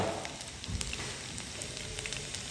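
Garlic sizzles in hot oil for a tadka tempering green moong dal, a steady close crackle and hiss with faint pops and no voices.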